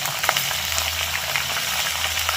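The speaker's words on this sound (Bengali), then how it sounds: "লেজ তিনটাকে একসাথে ভেজে নেবো" Three fish tails sprinkled with a little salt and turmeric fry in hot oil, giving a close, steady crackling sizzle with small pops and no talk.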